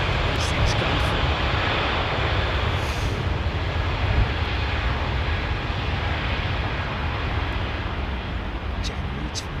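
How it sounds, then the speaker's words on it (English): A Boeing 787 Dreamliner departs Heathrow, its jet engines producing a loud, broad continuous roar that holds steady throughout, with faint higher clicks near the start. "That Dreamliner just went out."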